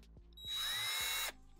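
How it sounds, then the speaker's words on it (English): A power drill driving in a screw whirs loudly for under a second, a steady high-pitched spin that stops abruptly, with a few small clicks before it starts. "I'm gonna put the screw right in the hole, and I'm gonna drill it in."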